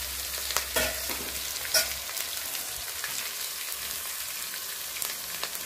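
Onion paste and dried red chilli paste fry in a pan, giving a steady broadband sizzle with a few sharper spatters and stirring scrapes throughout, close and moderately loud with no voices.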